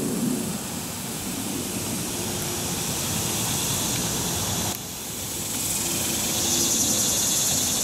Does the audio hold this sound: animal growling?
no